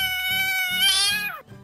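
A pet cat gives a single clear, close meow that rises and then falls away, with faint soft thumps underneath.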